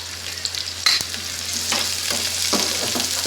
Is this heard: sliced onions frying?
yes